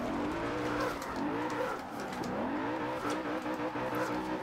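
Car tires squealing while drifting in Forza Horizon 2, a sustained wavering screech over a steady revving engine.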